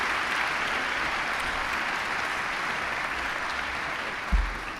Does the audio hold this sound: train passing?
no